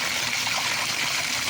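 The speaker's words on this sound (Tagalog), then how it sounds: "Lakas pa ng tubig, oh. Umaapaw." Water rushes steadily from a burst water pipe, a continuous broadband gush that fills the whole moment without pause, close and fairly loud, with no voices over it.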